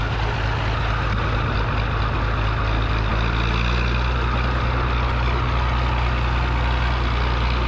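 A loud, rumbling heavy engine of a 1949 Fordson P6 Major tractor labors continuously, its deep throbbing drone shifting in pitch as it engine-brakes downhill at an agricultural show in Glenisla, Scotland.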